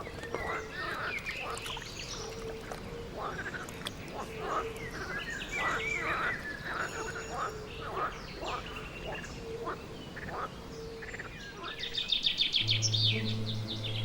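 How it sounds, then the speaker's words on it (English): Breeding birds calling across summer wetlands, a steady scatter of chirps and calls kept low under a narrator's voice, with a brighter burst of calls near the end. "It's early summer, and the wetlands are full of breeding birds."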